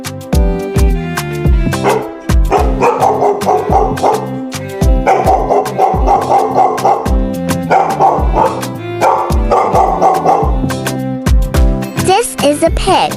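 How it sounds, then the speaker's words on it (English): A dog barks repeatedly in short, loud, evenly spaced bursts over steady background music, with no talking over it. "This is a dog."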